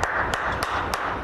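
Scattered hand claps, about four sharp separate strikes, ring out over a steady murmur of background noise in a radio studio setting.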